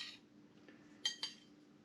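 Two quick, faint metal clinks of a spoon against a bowl of smoked beet borscht, close by in a quiet room.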